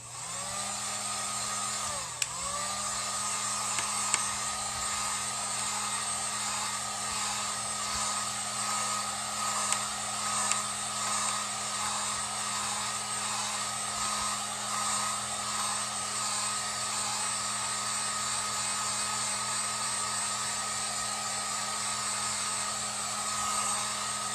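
A hair dryer blows steadily on a freshly washed stencil, a close, constant whooshing whine with a faint motor hum that runs unbroken throughout, apart from a brief dip early on.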